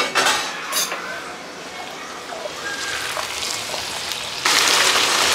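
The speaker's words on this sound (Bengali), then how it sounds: "কিছুক্ষণের জন্য গ্যাসটাকে হাই ফ্লেমে রেখে ভালো করে ভাজা ভাজা করে নিয়েছি।" Chicken pieces fry over a high gas flame for chilli chicken, giving a continuous hissing sizzle with a few clattering scrapes of utensil against pan, then a sudden louder surge of sizzling toward the end.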